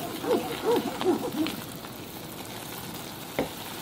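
Fish cake broth boils vigorously in a pot for Korean steamed eggs, a steady soft bubbling hiss with a few warbling tones early on and a single small pop near the end.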